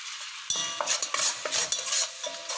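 Flour being stirred into melted butter in a pan to make a roux, a series of scraping, stirring strokes over a soft sizzle, fairly close and with no voices.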